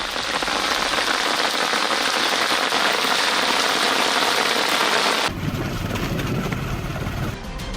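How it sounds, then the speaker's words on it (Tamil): Heavy rain pours steadily in the hill villages of the Western Ghats, a loud, dense hiss of drops on surfaces that drops to a softer, thinner patter partway through, with no voices. "தொடர்ச்சி மலை மற்றும் அதனை ஒட்டிய பகுதிகளில் அதிகபட்ச மழை பதிவாகியுள்ளது"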